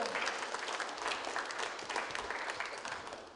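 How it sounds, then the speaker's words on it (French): An audience claps for a seamstress at a live show, a dense, sustained round of applause that carries loudly through the whole moment and fades only slightly toward the end. "On applaudit la couturière!"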